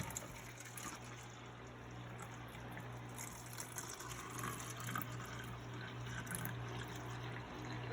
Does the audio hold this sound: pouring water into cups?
yes